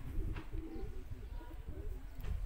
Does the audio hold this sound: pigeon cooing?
yes